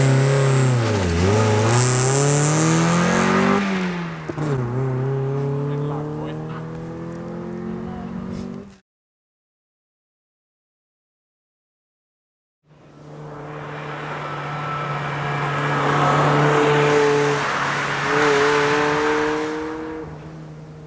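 A car engine revs hard in bursts during attempts to drift, rising and falling in pitch with heavy throttle and wheel spin, loud and close; it cuts out briefly, then returns with sustained high revs.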